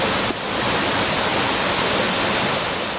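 The Cascade Jacqueline waterfall pours in a dense, steady roar of falling water, loud and close, with no voices.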